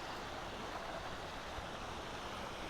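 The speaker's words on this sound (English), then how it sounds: "Am I hearing the water coming out of that pipe? Is that the louder water that I hear?" Water gushes from a large pipe in a canyon, a steady, loud, broadband roar that runs unbroken through the whole stretch with no voices.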